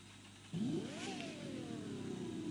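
A car in the video game The Crew 2 revs hard from a steady idle, its engine pitch climbing then easing into a sustained high drone, loud and alone with no talk.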